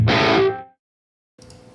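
A distorted electric guitar chord played through a guitar amp impulse response with reverb, ringing briefly and decaying into silence before another faint strum begins.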